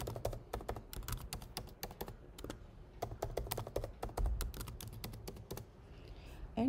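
Fingers type a database password on a computer keyboard in a quick run of crisp, close key clicks, with a brief pause partway through and no talking.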